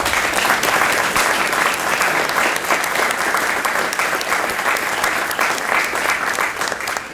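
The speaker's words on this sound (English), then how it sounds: "And let's give them a round of applause." A large audience at the 2018 Academy of Finance graduation ceremony applauds, the dense, steady clapping holding at full strength for the whole stretch without a break.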